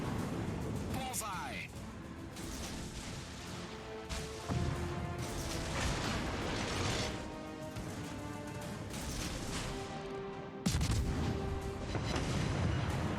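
Torpedo impacts and gunfire in a naval warship video game: continuous booming explosions and crashing hits over a dense rumbling battle din, loud and layered, with a sharp blast near the end.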